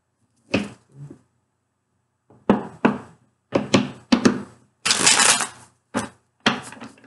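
Tarot cards are shuffled in several short bursts, with quick riffling slaps separated by brief pauses, close and fairly loud.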